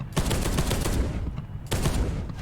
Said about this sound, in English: It definitely feels like a storm bolter. It's got that sort of heavy thud to it